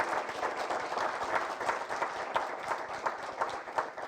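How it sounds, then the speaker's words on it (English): An audience at an expert panel seminar claps steadily throughout, a soft, even patter of many hands without pauses. "let's give Pam and Alison a big round of applause"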